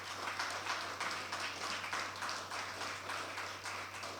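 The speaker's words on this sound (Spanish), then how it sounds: "Podemos darle un aplauso a nuestro papá." A church congregation claps for a father, a continuous mass of hands beating in loose rhythm at moderate volume, with a steady low hum running beneath it.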